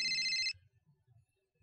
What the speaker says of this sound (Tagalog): Kakamadali na iwan yung cellphone. Saan ba yung nagre-ring na yon?